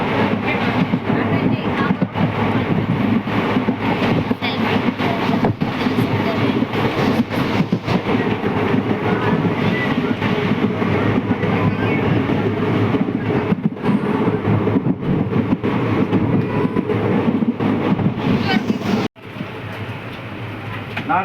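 Steady rumble and rhythmic clickety-clack inside a moving passenger train, continuous and loud for most of the stretch, with a brief drop near the end and faint background voices.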